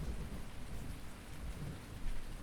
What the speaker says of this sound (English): This has been a very rainy day.